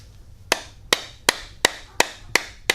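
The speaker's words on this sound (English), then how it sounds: "You take a screwdriver and a hammer." A hammer drives a screwdriver through a car's oil filter in seven sharp, evenly spaced metallic strikes, close and loud, with quiet between each blow.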